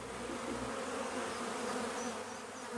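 A steady, close buzzing of many bees, continuous and even, with no other sounds.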